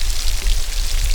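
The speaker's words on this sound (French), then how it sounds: "la pluie tombe tellement fort qu'on a du mal à avancer" Heavy rain pouring down during a thunderstorm at Yellowstone, a loud, dense, continuous hiss of drops hitting the ground with no voices.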